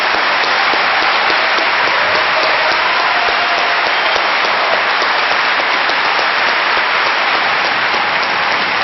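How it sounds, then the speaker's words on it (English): A large audience claps after a lively debate, a dense, even wash of applause that holds loud and unbroken throughout, with no speech over it. "I told them not to clap."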